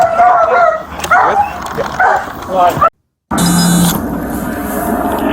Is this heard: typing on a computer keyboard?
no